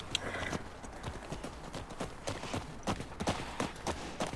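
Horse hooves clip-clop in a steady walking rhythm in the video game The Last of Us Part II, fairly quiet, with a few extra knocks and clatters mixed in.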